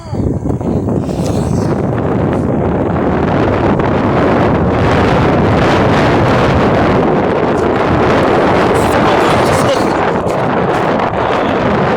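Strong wind roars across the microphone on a Forte electric scooter riding at speed, a loud continuous rushing buffet that covers everything.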